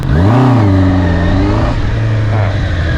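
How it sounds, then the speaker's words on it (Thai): A 2024 Honda CB650R four-cylinder engine with E-Clutch revs hard at full throttle, a loud close howl whose pitch sweeps up and settles into a sustained high drone. "ทีนี ้ถ้าเกิดเราเปิดคันเร่งแบบเปิดแรงๆล่ะอาการรถเป็นยังไงนะครับ"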